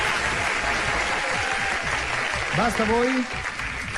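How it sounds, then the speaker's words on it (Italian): Canned applause effect played on an Italian radio show, a continuous bed of clapping with a voice speaking over it near the end. "Applauso finto"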